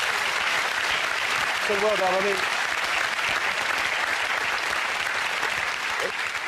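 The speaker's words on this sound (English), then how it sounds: "So I think that's worth a round of applause in itself." Studio audience applause for a performance on a TV show, a steady broadband roar of clapping that lasts throughout while someone speaks over it.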